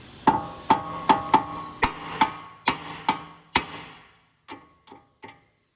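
Sharp metallic hammer blows ring out close by on a 2012 Honda Accord axle nut, about nine strikes at a steady pace, then three lighter taps after a short pause.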